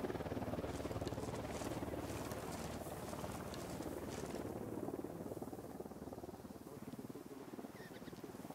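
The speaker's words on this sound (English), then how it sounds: "Down. Get down. Chopper." Helicopter flying overhead in the Ghost Recon Wildlands video game during a patrol, a steady broadband rotor and engine roar that holds loud throughout with no talk over it.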